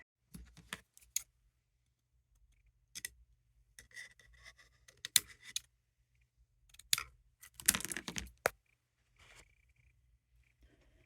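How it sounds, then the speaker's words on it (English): Scissors trimming the wick of a candle made from salvaged old wax, a few sparse, sharp snips and small clicks separated by near silence, close and faint. "I'll trim the wick back."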